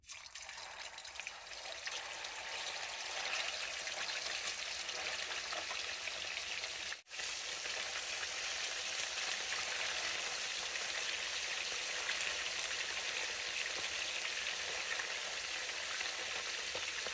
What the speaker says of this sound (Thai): ระหว่างที่ทำหมูทอดอยู่ในครัว